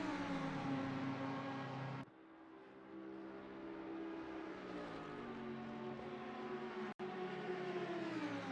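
Two Audi race cars battling in a sim racing video game at Watkins Glen, their engines droning steadily with smooth rising and falling pitch as they rev and shift, continuous and fairly close, with two sharp momentary dropouts.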